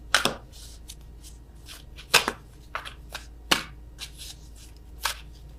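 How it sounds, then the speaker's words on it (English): A deck of tarot cards being shuffled by hand, several crisp riffling bursts at uneven intervals, close and fairly quiet with no talking. "I am awful at attempting to shuffle these."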